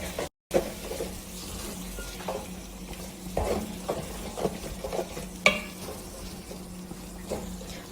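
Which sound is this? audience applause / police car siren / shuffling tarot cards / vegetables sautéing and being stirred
vegetables sautéing and being stirred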